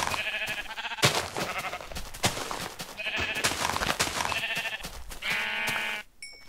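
Minecraft sheep bleat repeatedly, close and clear, several short wavering calls spread across the clip with brief gaps between them, over a steady game background.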